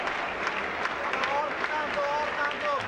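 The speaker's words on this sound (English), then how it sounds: "VVS Laxman is clapping his effort" Cricket crowd applauding a boundary by Sehwag during an India–Pakistan Test match in Multan, steady broad clapping and cheering with a commentator talking over it.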